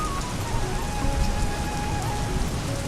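Heavy rain pours down in a steady, dense patter, a continuous hiss of drops striking surfaces with no voices.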